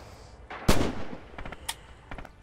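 Gunfire in Red Orchestra 2 during a Bridges of Druzhina Territory match: one loud close shot, then a scatter of sharper, fainter cracks from a firefight, with no talking.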